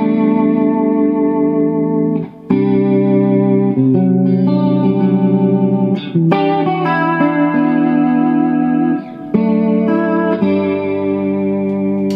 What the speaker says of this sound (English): I love using this as well for the um, the faster Leslie type thing